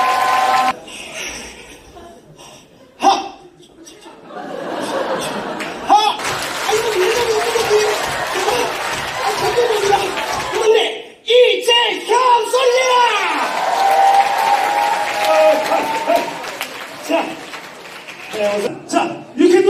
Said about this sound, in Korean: 박수와 박수!